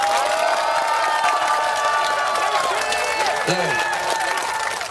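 A crowd at a press conference at Seoul Express Bus Terminal breaks into dense, sustained clapping and cheering, loud and close, with voices mixed in throughout.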